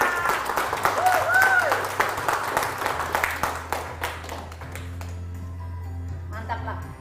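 Hands clap in a short burst of applause at an indoor coffee product demonstration of collagen latte and cappuccino, rising at the start and fading, with people talking through it.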